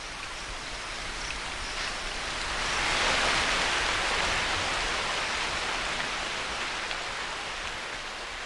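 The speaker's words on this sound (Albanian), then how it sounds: "shiu fillon përsëri." Dawn rain returning in India after a long dry spell, a dense steady hiss of heavy rainfall that swells slightly midway, with no voices.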